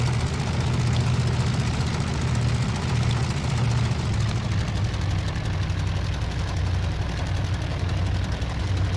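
Steady, loud piston engine drone of a Bf 108 light aircraft in flight near Shoreham Airport, a continuous low throbbing hum with even rumble throughout and no break.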